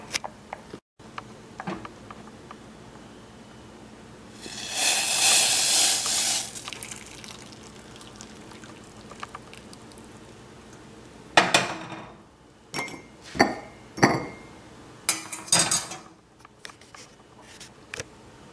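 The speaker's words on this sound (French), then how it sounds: "maintenant je peux le verser dans ma tasse" Freshly boiled masala chai, spiced tea, poured into a cup in a home kitchen: a sustained liquid splash, then scattered clinks and knocks of a cup and utensils, close by with no talking.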